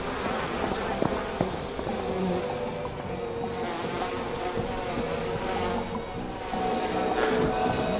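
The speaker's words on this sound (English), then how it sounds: "Crickets. Bloody crickets." Crickets chirp steadily through a night scene in the video game We Happy Few, a dense, continuous insect buzz filling the background with no talking over it.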